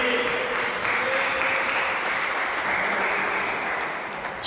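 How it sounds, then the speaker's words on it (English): Teammates applaud a cricket batsman reaching his half century with a boundary four during a Test match, steady sustained clapping filling the whole stretch, moderately loud and without talk. "soaks in the applause of his teammates"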